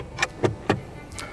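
The damped glove box of a 2022 Honda Civic S is opened with three quick, soft clicks and a faint latch release, close up in a quiet cabin.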